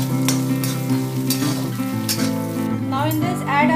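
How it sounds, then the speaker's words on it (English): Curry leaves crackle and roast in hot oil for a poha chivda, a steady sizzle with sharp pops near the start and end, while a strong tonal hum sits underneath throughout. "Add around 6 sprigs of curry leaves. So now just roast it till it turns crispy."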